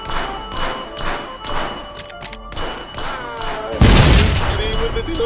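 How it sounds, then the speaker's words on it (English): A bell in a video game rung over and over in an irritating way, a series of short bright dings each followed by a ringing tail, with a louder burst of noise near the end. "Repeatedly ringing that bell in a highly irritating fashion"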